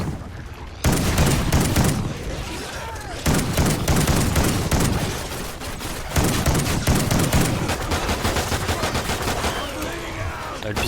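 Pump-action shotgun fire in Call of Duty: Ghosts Extinction on Xbox 360, loud repeated heavy blasts coming in spaced bursts amid constant combat noise, with someone speaking at times.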